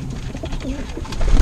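Domestic racing pigeons in a loft, among them a grizzle bird, cooing softly nearby in low, throaty murmurs over brief rustling, with no talking.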